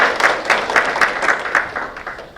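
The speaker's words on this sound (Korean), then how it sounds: "박수 한번 부탁드릴게요." An audience at a policy forum on disabled sports instructors claps at a steady, even rhythm, a close group applauding together with regular beats that ease off slightly toward the end.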